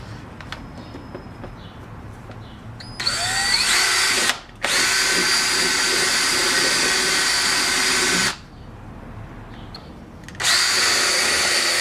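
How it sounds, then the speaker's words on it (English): A cordless power drill bores a hole into a car fender in three long bursts, loud whining runs broken by short stops, with faint birdsong before the first burst. "Might drill a hole in there and put zip ties through it."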